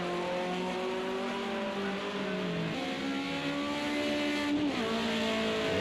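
A BMW 2002 race car at Hockenheim accelerates from onboard, its engine revving up steadily through the gears with a shift dip midway, loud and continuous, with a brief tire squeal.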